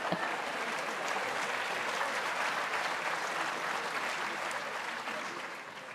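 Parents in the audience at a George Brown College convocation in 2018 keep up a steady, dense round of clapping for about six seconds, tapering slightly at the end.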